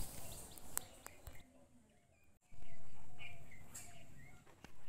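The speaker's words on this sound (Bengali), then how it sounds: "তোমরা পাখির ডাক শুনতে পাচ্ছ?" Birds call and chirp outdoors beside a house with some open ground nearby, scattered short tweets at moderate distance over background noise, with a louder broadband rush in the second half.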